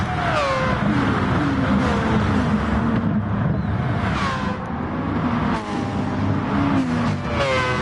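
Race cars in a PS4 racing game roar close and loud, engines whining up and down through gear changes as several cars pass in a steady, continuous drone with no talking.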